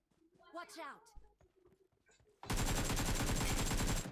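Rapid automatic gunfire from the mobile battle-royale game PUBG Mobile bursts in loud and sustained after a few seconds of quieter game sounds and chatter.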